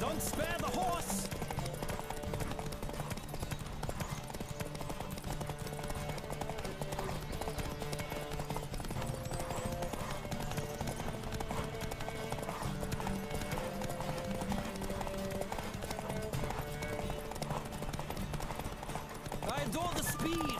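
Rapid galloping horse hoofbeats in The Witcher 3 pound steadily over a busy game soundscape with music, continuing throughout without a break.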